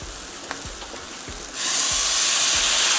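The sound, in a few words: tomatoes added to sautéing vegetables, sizzling in the pan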